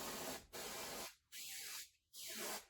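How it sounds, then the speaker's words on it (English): Spray aimed at the lace of a wig gives three close, hissing bursts separated by short silent gaps, the last two briefer than the first. "So just spray it."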